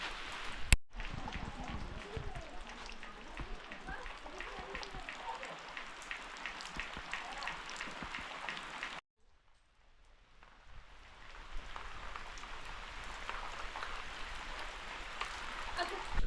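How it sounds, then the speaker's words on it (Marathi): Steady rain patters on a surface in a Konkan village in winter, broken by a brief near-silent gap before the downpour resumes at a similar moderate level. "पाऊस तर बघा वातावरण असं छान असं थंड बनवलं आहे"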